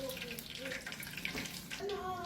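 A pot of water boils on the stove during cooking, giving a soft continuous bubbling and hiss while a voice is heard in the background.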